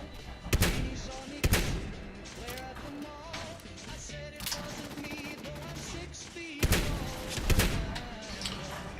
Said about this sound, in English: Hey, watch those stray bullets there, pal.